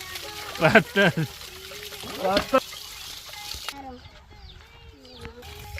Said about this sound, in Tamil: கட்டையை அலசுறோம், வெங்காயம் வெட்டுறதுக்கு.